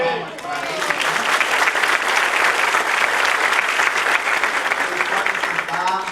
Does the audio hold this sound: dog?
no